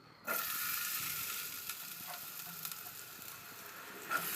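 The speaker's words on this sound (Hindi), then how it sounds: "अब मैं अपना पैन को गरम कर रही हूँ और हो गया है, इसमें मस्टर्ड डाल रही हूँ।" Mustard seeds hitting a hot pan for an Indian cabbage and fish dish, a sudden burst of crackling sizzle that then settles into a steady hiss with scattered pops, close and without talk.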